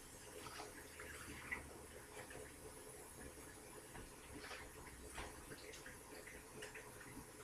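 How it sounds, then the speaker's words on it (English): A freshly boiled hot egg rinsed under a cold running kitchen tap, giving a faint, steady hiss of flowing water with small clicks and splashes and no talking. "I'm gonna run this back under cold water because it's still hot."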